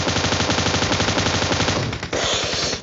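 M249 machine gun firing in PUBG Mobile: a loud, rapid, continuous burst of automatic fire that breaks off briefly near the end before resuming.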